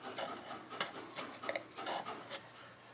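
A woodcarving gouge, held upside down, scraping through wood on a carved baseball player figure, with several short, close, quiet rasping cuts in an uneven rhythm and no voices.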